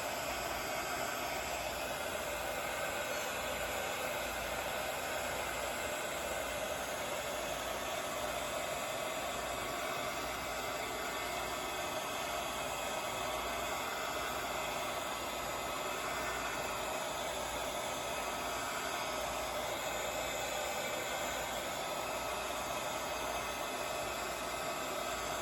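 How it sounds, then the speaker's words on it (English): Steady, loud, unbroken whoosh of an embossing heat gun blowing hot air, running continuously at close range with no pauses and no voices. "I thought the embossing gun wouldn't be so loud"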